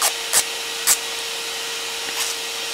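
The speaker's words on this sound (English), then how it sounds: "That's how strong this vacuum chamber is." A powerful vacuum chamber runs with a steady, loud broadband whoosh and a constant hum, broken by a few brief hissing bursts near the start and again toward the end.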